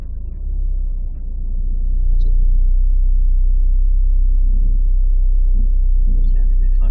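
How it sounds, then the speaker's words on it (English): A learner driver's car labours in place as clutch and brake fight each other while reversing, giving a loud steady low engine rumble and drone that swells after a couple of seconds, with no talk. "that noise you heard there, that was the clutch and the brake fighting against each other"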